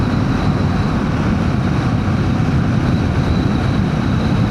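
A Royal Enfield Himalayan 450 rides at about 4000 rpm and around 80 km/h, its steady engine drone blended with loud continuous wind and road roar, with no speech over it.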